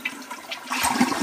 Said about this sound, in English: this is what the normal flush looks like.